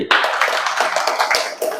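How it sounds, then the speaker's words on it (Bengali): An audience claps together in unison on a count of three at a climate change talk, a dense burst of hand claps close by that carries steadily for a couple of seconds. "সকলে মিলে সারের উদ্দেশ্যে একটা করতালি হবে একসাথে রেডি ওয়ান টু থ্রি"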